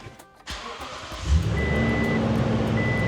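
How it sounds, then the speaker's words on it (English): A Toyota Tundra pickup's engine starts via keyless push-button start: a brief cranking whir, then a low rumble that settles into a steady close idle, with chime tones sounding over it. "I'm gonna turn on the truck right now"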